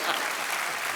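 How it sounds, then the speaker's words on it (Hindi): Studio audience applause on The Kapil Sharma Show, a Hindi TV comedy show with Alia Bhatt and Varun Dhawan as guests: dense, steady clapping from a large crowd that fills the whole second at an even, loud level. "पप्पू और आलू के लिए तालियां"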